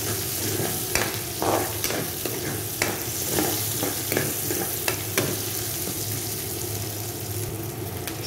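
Onions sauté in a hot pan for beef menudo, giving a dense, close sizzle broken by spatula scrapes and stirring clatter throughout, fairly loud and without talk.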